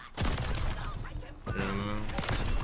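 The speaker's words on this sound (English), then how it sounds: "Who the hell shooting at me?" Gunfire in the video game Call of Duty MW3, rapid loud shots and bursts filling the mix for several seconds, with a player talking over it.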